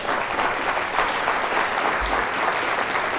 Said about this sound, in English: that applause is not for me so much as it is for you